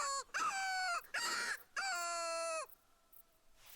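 A bird calls in the hunting game Hunter: Call of the Wild, three loud harsh cawing calls, each about half a second long, in quick succession, followed by a fainter trailing call.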